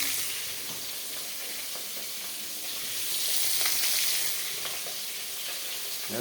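Pieces of poa (bhola) fish fry in oil in a Bengali kitchen, giving a continuous, moderately loud crackling sizzle that swells slightly midway, with faint stirring clicks.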